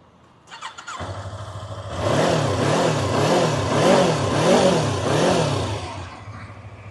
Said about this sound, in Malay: Let's go, kita dengar bunyi motor ni.